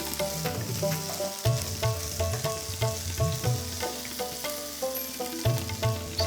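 Tomato pieces with a pinch of turmeric frying in a pan for a tomato gravy, giving a steady close sizzle with soft stirring scrapes and no voices.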